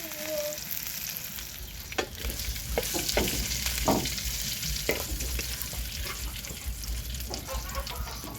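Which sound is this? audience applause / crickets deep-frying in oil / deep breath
crickets deep-frying in oil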